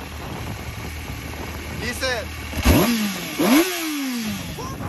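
A Kawasaki ZX6R big-bike engine revs in two sharp, rising bursts up close, each climbing and falling away, over a steady idle, with a person speaking briefly before the revs.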